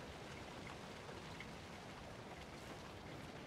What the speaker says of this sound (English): Raining. I'm gonna turn up the volume a little bit because the rain sounds so cozy.